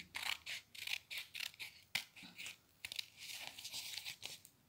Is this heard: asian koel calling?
no